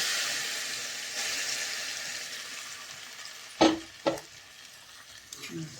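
Mackerel masala frying in a pan, a soft steady sizzle that fades slightly, then two sharp close clatters of stirring and a few light scrapes near the end, with no voices.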